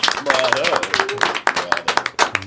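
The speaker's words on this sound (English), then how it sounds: "I want everyone here to give the loudest, thunderous applause for Dave Gardner" A crowd at a celebration of Indy history claps and cheers loudly for Dave Gardner, with quick sharp claps mixed with whoops and raised voices, and people shouting and talking over the noise.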